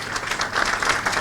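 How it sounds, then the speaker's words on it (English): Applause from the audience at a Thai government ministry event, a brief steady patter of many hands clapping together at moderate volume with no one talking over it. "I would like to give the round of applause to the Ministry of Interior and to my friends from the Army."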